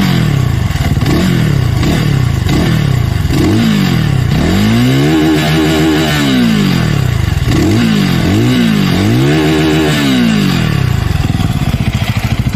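A Zongshen Cyclone RA2 retro motorcycle engine revs repeatedly up and down in sharp throttle blips, close and loud with a clattering idle between bursts.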